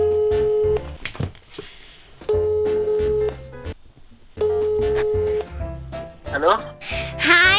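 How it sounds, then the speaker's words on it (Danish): Phone ringback tone from an outgoing call, with steady tonal bursts repeating in a regular on-off pattern, loud and clear, while people talk quietly underneath and between the rings. "Okay, jamen vi ringer til Kasper så"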